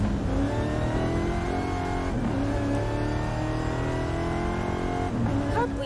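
A car engine revs and drones in Forza Horizon 5, a steady, loud buzzing tone with rising and falling pitch sweeps as it accelerates, with a voice talking over it.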